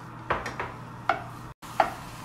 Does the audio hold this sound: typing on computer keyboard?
no